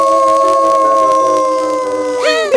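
A long, sustained howl with a steady tone rises loud and close, then bends sharply upward and breaks near the end. The howl is from a wolf in an animated children's nature show.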